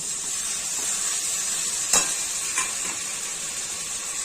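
Ground black pepper paste hits frying chicken and is stirred, giving a continuous bright sizzle with a couple of brief spoon scrapes against the pan.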